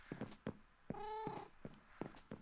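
A Minecraft cat meows several times in short, close, clear cries, with soft game footsteps and movement sounds between them and no talking.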